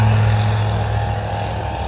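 A Zenith STOL airplane with a 100 horsepower engine takes off at an airshow demo, its propeller engine a loud, steady, broad drone held throughout.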